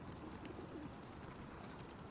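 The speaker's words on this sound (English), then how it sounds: "Pigeons!" Pigeons in The Last of Us Part II video game giving soft, low coos over a steady ambient hum, faint and in the background.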